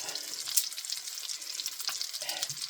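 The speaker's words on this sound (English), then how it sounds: "Thing about meatballs is that when I fry them, they look awful." Meatballs fry in a pan with a steady bright sizzle and crackle throughout, close and loud, with an occasional scrape of stirring and no talking.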